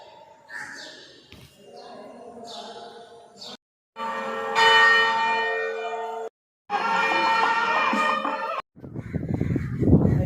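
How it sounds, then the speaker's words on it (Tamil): Crows caw around the Vattappalai Kannaki Amman temple in Mullaitivu, Sri Lanka, while temple bells ring in long sustained, resonant peals with short gaps between them. "காகங்களின் ஓசை"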